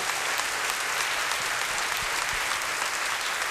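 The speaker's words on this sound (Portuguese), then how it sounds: "Então vamos aplaudir a Jesus mais uma vez." Dense, sustained applause from a church congregation in Rio de Janeiro fills the space evenly at a steady level, a broad wash of many hands clapping together without breaks.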